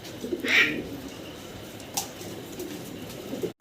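An Andalusian-coloured pigeon pair gives a brief, faint coo amid background chatter and room noise, with a short sharp sound near the middle.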